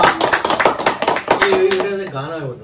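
Rapid clapping from a small group at a home birthday party, brisk and close, with voices talking and singing over it before the claps fade out.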